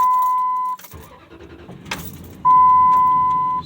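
A 2005 Dodge Ram 1500 that won't stay running gives a short, low engine rumble that dies away, with a steady electronic warning chime sounding before and after.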